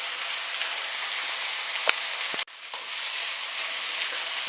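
Chicken stir-fries in a pan for a Chinese chicken curry, giving a steady close sizzle with a couple of sharp clinks and a brief dip as it is stirred.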